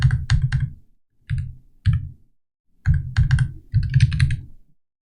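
Computer keyboard typing out lines of code, close and loud, in several quick bursts of clustered keystrokes separated by short pauses.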